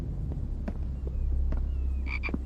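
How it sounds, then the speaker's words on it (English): A frog croaks in the video game The Infected, a few short low throbbing croaks standing out against a steady ambient game hum, moderately close and without speech. "Hello, Mr. Frog."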